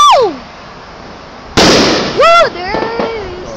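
Fourth of July fireworks go off nearby with a sudden loud burst and crackle, followed by whistling, rising tones as excited voices whoop and cheer.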